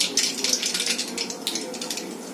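Mustard seeds crackling in hot oil in a kadhai, a dense run of sharp, rapid pops and spits, close and steady throughout with no talk.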